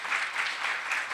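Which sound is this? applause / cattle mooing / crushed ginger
applause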